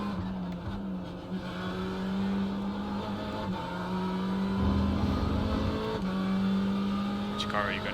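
Ferrari GT3 race car engine from the iRacing sim at Mosport, a steady droning hum running under people talking throughout.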